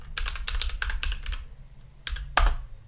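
Quick bursts of keystrokes on a computer keyboard as a password is typed at a Linux lock screen, close and crisp, with a short pause before a final few taps.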